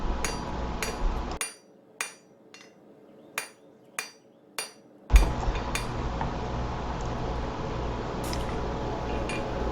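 A hammer strikes a hot steel chisel on an anvil in a blacksmith shop, a series of sharp ringing blows at a steady rhythm, close and loud, with a forge roar dropping out and returning.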